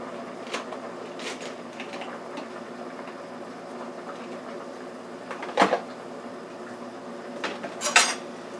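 A spoon stirs chicken noodle vegetable soup in a pot, making quiet sloshing under a faint steady hum, with a few sharp metallic clinks against the pot near the end and no talk.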